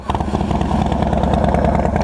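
Engine of a 2005 Harley-Davidson Dyna Wide Glide with EFI catches and settles into a loud, steady, throbbing idle close by, running without pause.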